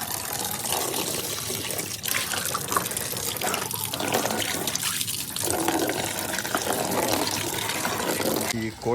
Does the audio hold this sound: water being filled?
yes